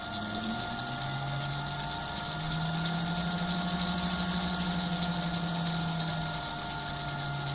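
A Myford lathe running on an Altivar 11 inverter, a steady close motor whine and hum with a tone that shifts slightly as the speed changes, no talk.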